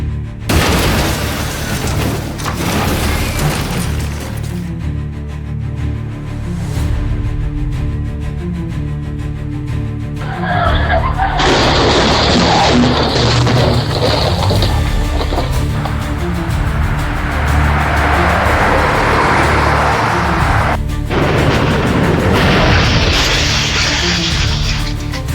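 Cars colliding on a highway, with a continuous loud rumble of traffic punctuated by heavy crash booms and impacts, followed by further scraping, crunching bursts as vehicles slam into the median.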